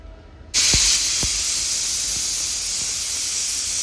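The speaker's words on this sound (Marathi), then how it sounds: "थोडंसं पाणी टाकून आपण कुकर लावून घ्यायचं आणि मस्तपैकी 2 ते 3 शिट्ट्या होऊ द्यायच्या." A pressure cooker of Varhadi-style dal with hing bursts into a loud, steady steam hiss after a brief quiet start. The hiss holds close and continuous, with no talk.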